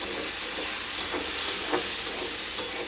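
Mung dal lentils fry in mustard oil, a steady close hiss and sizzle broken by a few scraping stirs and light clinks at irregular intervals.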